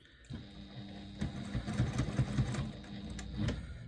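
A sewing machine runs a straight quarter-inch seam across a bag pocket flap. The motor hums steadily and close for about four seconds, with a rapid rattling stitch texture and no voices.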